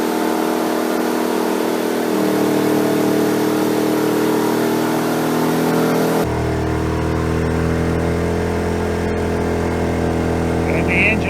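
A WEN 56225i inverter generator engine runs under heavy electrical load at around 5,000 RPM, a loud, continuous droning hum whose pitch shifts and wavers midway as the speed swings back and forth.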